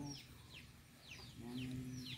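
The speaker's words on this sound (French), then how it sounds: "Il y a beaucoup de poulets ici." Several chickens cluck softly in a farmyard, quick repeated calls fairly faint and distant over low background noise.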